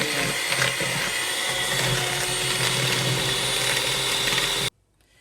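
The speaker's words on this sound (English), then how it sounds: "my sugar and butter has been added. And I'm going to whisk this until it's light and fluffy." Sugar and butter creamed with an electric whisk for a Guyanese black cake, a steady loud motorized whir running without pause until it cuts off abruptly near the end.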